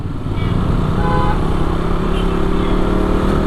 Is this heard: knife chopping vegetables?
no